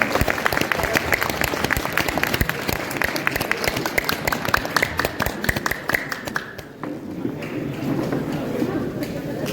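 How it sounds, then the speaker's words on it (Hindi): A crowd at a poetry session during a book fair festival in Bokaro breaks into loud, dense clapping that thins out, then voices murmur in the hall. "आप सभी से निवेदन करता हूं कि एक बार जोरदार तालियों से"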